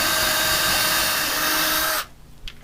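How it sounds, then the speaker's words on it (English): Power drill boring screw holes through the lid of a cigar box, a steady loud whine for about two seconds that then cuts off abruptly, followed by a brief faint knock. "I'm going to go down and drill down through a hole large enough to fit the screws in."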